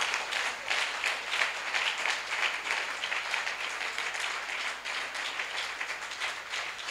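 A church congregation applauds together in continuous, even clapping. The sound is dense and sustained throughout, with no breaks and no voices rising above it.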